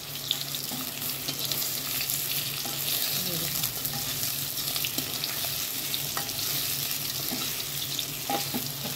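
Alu vadi, colocasia leaf rolls, fry gently in a pan over low heat, giving a continuous, even hiss with a few soft pops and clicks.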